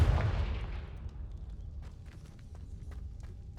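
A Confringo fire spell blast in Hogwarts Legacy, heard as a loud low burst at the start that rolls off into a fading rumble, followed by faint scattered ticks and crackles.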